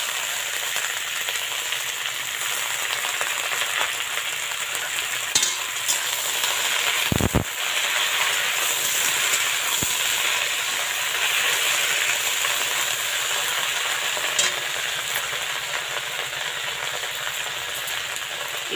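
Kharkol leaves with black cumin crackle in hot oil in a pan, a loud, continuous frying hiss that holds steady and close, with a few sharper scrapes and pops as the leaves are stirred.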